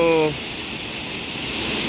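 River rushing along near a countryside campsite, a steady broadband wash of flowing water, close and continuous after a brief voice at the start.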